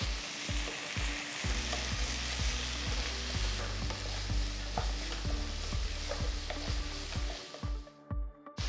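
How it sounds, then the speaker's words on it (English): Chopped tomatoes are stirred into onions frying with ginger garlic paste for vada curry, giving a loud, steady sizzle with repeated rhythmic scraping strokes of the spoon that quiet toward the end; no talking. "Next add 4 large tomatoes that are chopped."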